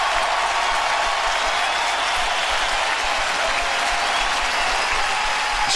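A large stadium crowd applauds steadily at a 2006 Rutgers home college football game against Syracuse, a dense, even roar of distant clapping that holds for several seconds.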